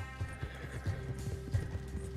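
Hooves clip-clop in a quick, galloping rhythm from a horse in Red Dead Redemption 2, with a steady low game rumble and faint tonal music beneath, no voices.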